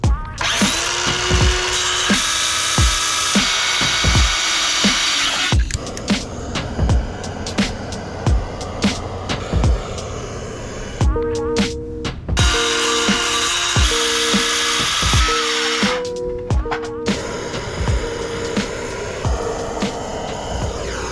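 A cordless power drill drives 2.5-inch wood screws into boards for a simple raised garden bed, whirring in repeated bursts that bog down as each screw bites, with knocks of the timber between runs, close and loud.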